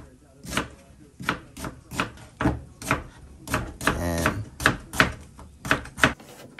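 Onions chopped with a knife on a board, about a dozen crisp close strikes at an uneven, quick pace, with a short flurry of rapid cuts midway.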